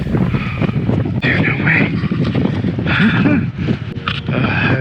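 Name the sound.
wind blowing outdoors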